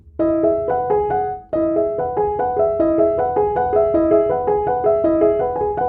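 Piano chords played in a steady repeating pattern, several notes struck together on each beat, with a brief pause before the pattern resumes.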